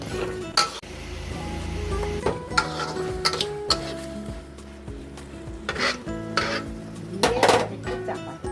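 Bombay duck fish curry stirred in a pan, with a soft simmering sizzle under repeated scrapes and clinks of a spoon against the metal, plus a few sharper knocks.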